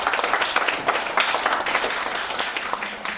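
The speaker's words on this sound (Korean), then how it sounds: "모든 여러분들의 수고 여러분들에게 박수를 보냅니다" Dense, sustained audience applause filling a seminar hall, many hands clapping together at a steady loud level for the whole stretch, with no talk over it.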